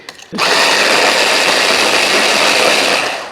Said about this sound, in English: Don't over blend it at this point.